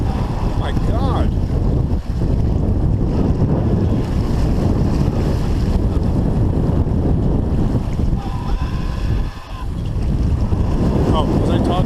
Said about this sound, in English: I got mesmerized by these waves.